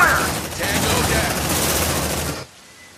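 Heavy gunfire in the Aliens: Dark Descent video game: a dense, loud, continuous burst of rapid shots with no breaks, cutting off sharply near the end and leaving a quiet tail.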